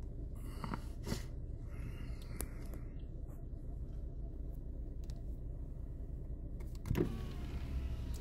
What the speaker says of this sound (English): Roll this window down so I get a shot as it goes by